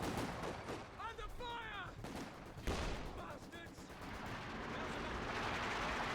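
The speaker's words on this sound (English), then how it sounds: "Line's gun there firing away." Gunfire in the Company of Heroes 2 real-time strategy game, a British line's gun firing away amid battle, with sharp shots and bursts over dense battlefield noise and a talking voice.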